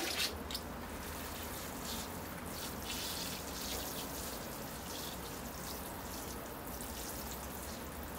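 Water washes over a Portulacaria afra bonsai forest in baobab style, a steady hiss of spray and splashing running continuously and close, with no talking.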